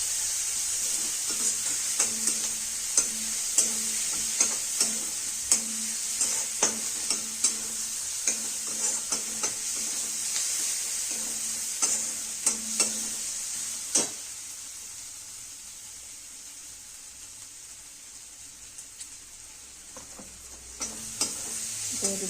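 A green garlic chutney mixture roasts in oil, sizzling steadily while a spoon scrapes and knocks against the pan in frequent irregular strokes, close up with no speech.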